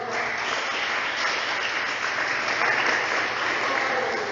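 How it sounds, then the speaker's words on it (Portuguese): A church congregation claps for Jesus during a sermon, dense sustained applause filling the room at an even level for several seconds. "Uma salva de palmas para Jesus."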